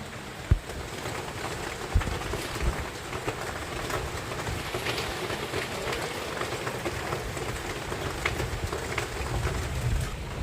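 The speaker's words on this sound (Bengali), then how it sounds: "এখনও বৃষ্টি হচ্ছে দেখবেন" A heavy downpour pours down in a continuous, even roar of rain beating on surfaces, with a couple of sharp knocks early on and no talking.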